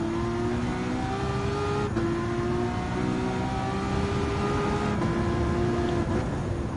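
Race cars from Gran Turismo 7 roar through a hypercar race with steady, loud engine drone and rising gear whines, shifting pitch around two and five seconds as the car accelerates, with no talking.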